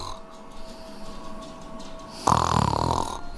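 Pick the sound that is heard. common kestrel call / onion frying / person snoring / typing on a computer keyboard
person snoring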